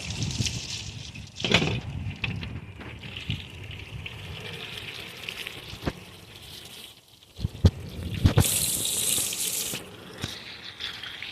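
Tap water patters and gushes into a sink as hands and a knife are rinsed after gutting freshwater fish, close and uneven splashing with a brief louder burst near the end.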